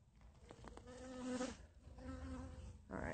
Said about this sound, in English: And there's the bees on here too.